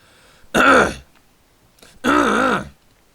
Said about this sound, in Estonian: Jube köha ka.